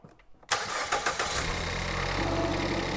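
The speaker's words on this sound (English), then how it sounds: "So we're going to start the engine now." A car engine cranks briefly, catches and settles into a steady idle, loud and close, with no talk over it.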